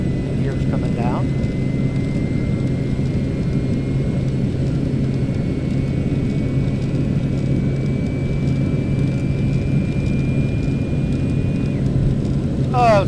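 A fixed-wing airplane with its landing gear coming down as it approaches to land, heard as a steady, loud cabin engine drone that runs unbroken throughout, with a faint thin whine across the middle.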